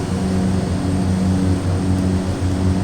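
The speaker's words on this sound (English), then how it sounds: "Let's take it to the air quick, Jack. Come on. Let's get her up." A propeller aircraft's engine drones loud and steady during the takeoff roll in the Prepar3D v5 flight simulator, a continuous close hum with no talk.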